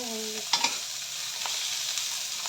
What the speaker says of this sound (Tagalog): Antayin natin na magmantika siya